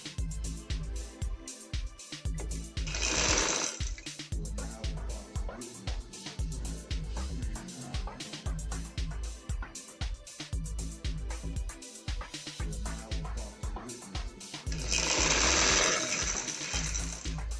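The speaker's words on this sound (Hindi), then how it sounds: "हम ये फोल्डिंग टेबल में मशीन से सिलाई लगाएं।" A sewing machine stitches a fold on an angrakha shirt with a steady, rapid mechanical patter. Two louder, brighter whirring stretches stand out from the continuous rhythmic running.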